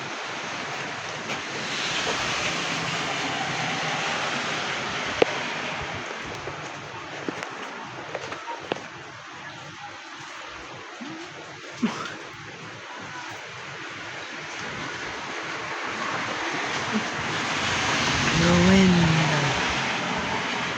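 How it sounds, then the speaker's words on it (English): A strong windstorm roars steadily through trees, a broad continuous rushing that swells and eases, with faint talk and small knocks underneath. "The wind is going crazy, boys."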